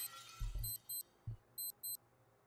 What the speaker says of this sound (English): A million alarms can go off, dude.